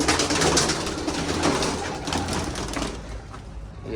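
Pet pigeons flutter down and land around a city rooftop loft, a dense rush of wingbeats with soft cooing mixed in, fairly loud and continuous with no talking.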